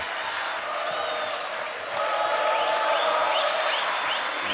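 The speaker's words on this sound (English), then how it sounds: "And listen to the crowd again." A basketball arena crowd at the Women's AmeriCup 2017 final, Argentina versus Canada, cheers and whistles, the roar swelling louder about halfway through and staying high.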